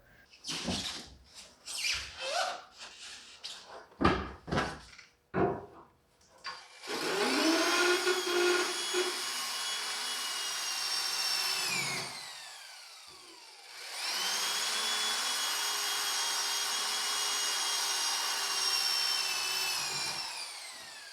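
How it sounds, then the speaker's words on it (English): A few clanks and knocks, then a power drill whines in two long sustained bursts, its pitch sagging as it bites into metal, drilling out spot welds on a Mustang's rear package tray. No one speaks. "start drilling out the spot welds for that rear package tray there"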